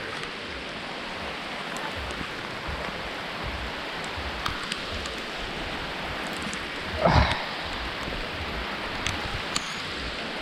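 Dense, steady rain hisses across everything, heavy and unbroken, with a brief louder splash or thump partway through.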